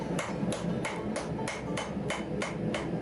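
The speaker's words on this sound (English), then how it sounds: "making sure you're hammering where the ricasso is going to be" Hammer blows strike 5160 leaf spring steel bar stock on an anvil, texturing it near the future ricasso of a knife blade; about nine sharp, evenly paced ringing strikes, close and loud, with no talk.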